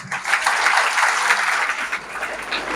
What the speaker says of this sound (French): je vous demande d'applaudir votre gouverneur